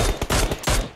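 Rapid video game gunfire in a mercenaries match: loud, close bursts of shots in a quick stuttering rhythm with brief gaps between volleys.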